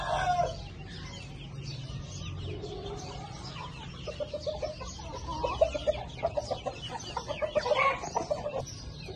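Chickens on a rooftop cluck in short, uneven bursts that grow busier toward the end, with a low steady rumble beneath.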